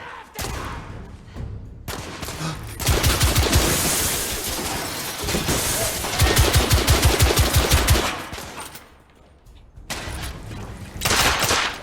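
Gunfire from The Order: 1886, with loud, rapid automatic bursts and single shots in several long volleys separated by brief quieter gaps, along with thuds and game effects.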